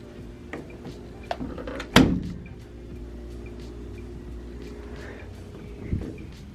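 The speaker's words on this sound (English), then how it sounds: "I'm gonna open the door." A single loud thunk of a door being opened, with a soft click before it and a faint bump afterward, in a quiet room with no talking.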